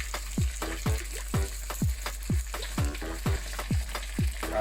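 Food frying in a pan for a pastelito, a steady sizzle under a run of regular, sharp scraping strokes roughly every half second, close and fairly loud with no voices.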